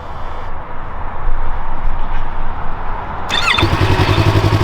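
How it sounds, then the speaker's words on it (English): A 2019 Yamaha R3 motorcycle engine cranks and fires up about two-thirds of the way in, settling into a loud, steady idle with a low pulsing throb after quieter background noise. "this is the bike, so I'll give you guys a little startup sequence"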